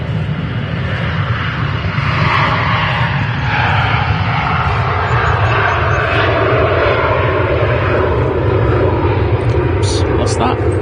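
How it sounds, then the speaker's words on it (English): A Jet2 Holidays airliner takes off at Manchester Airport, its loud, steady engine roar filling the whole stretch while people talk over it. "The one that's just taken off now, that's the Jet2 Holidays livery."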